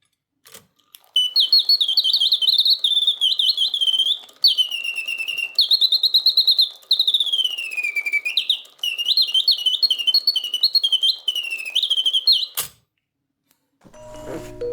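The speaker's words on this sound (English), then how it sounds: "You have the bellows to the left-hand side, which pump the air to the whistle, which makes the bird song." A 19th-century Parisian antique singing bird box, its bellows pumping air to the whistle, trills and warbles in rapid chirping phrases for about twelve seconds, bright and close, then stops abruptly with a click.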